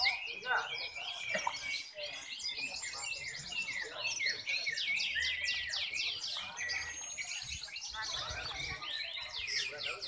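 Canaries at a canary song competition in Jember, East Java, singing continuously in dense, overlapping trills and chirps, several birds near and loud throughout.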